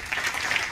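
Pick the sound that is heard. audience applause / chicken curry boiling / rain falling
audience applause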